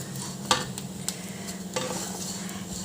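Ingredients for a birthday payesh frying in a pan, a steady low sizzle with a few sharp stirring scrapes and clinks of a utensil against the pan, close and fairly quiet, no voices.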